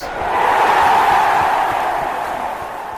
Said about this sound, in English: The crowd is going wild.